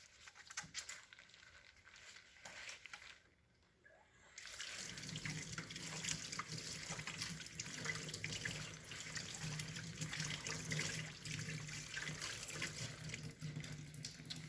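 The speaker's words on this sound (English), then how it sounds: "I'm going to make sure to get inside every crevice and really scrub in between each finger for at least 30 seconds" Hands being washed and scrubbed under a running tap at a sink in a biomedical lab setting, the faucet turning on after a quiet start into a steady, close rush of water with faint splashing.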